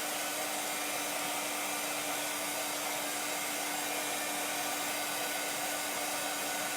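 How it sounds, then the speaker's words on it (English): A hair dryer blows hot air to dry paint on a bunny door hanger, a steady, unbroken whirring hiss with a constant motor hum, close and loud with no voices. "I'm going to hit it with the dryer just because I don't want to scrape it."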